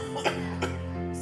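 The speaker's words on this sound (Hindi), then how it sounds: "शुरू हो गई ना फिर से खांसी" A man in a drama scene coughs twice in quick succession, close and fairly soft, with a steady hum underneath.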